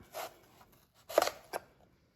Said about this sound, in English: I'm going to use my knife and I'm going to cut on an angle to cut the core out